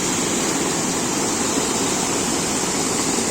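Continuous rushing water flowing through a natural rock pool, a steady dense flow like a small cascade into a pool, close and fairly loud, with no voices.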